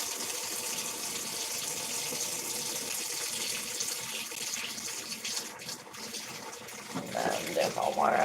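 Hot water pours steadily into a pool being filled, a continuous broadband rush of running water near the source, growing a little louder and more turbulent toward the end, with faint background voices.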